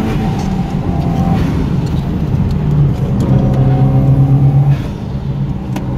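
Loud, steady engine rumble from a Subaru Impreza STI Spec C Type RA, droning continuously with shifting harmonic tones as revs change, heard close from inside the car with no talking.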